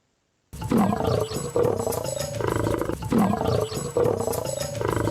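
A pride of lions feeding on a kill roars in deep, heavy bursts that repeat, loud and close, with no voices.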